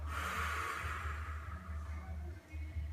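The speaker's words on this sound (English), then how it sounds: "it's a very audible, sharp sniff almost out of the nose" A sharp, audible sniff drawn in through the nose during yoga breathing, a breathy rush near the mic that fades over a few seconds with no talking.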